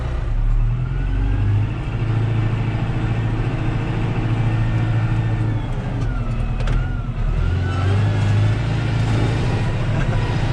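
A tractor fitted with tire chains drives on ice with a loud, steady engine drone that rises and falls in pitch, and clanking rattles run underneath, heard close with no talking.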